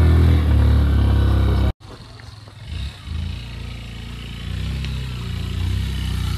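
Motorcycle riding on a rough, difficult mountain road, with a steady engine drone and clattering from the bumpy ride. The sound cuts out briefly and then continues at a moderate level.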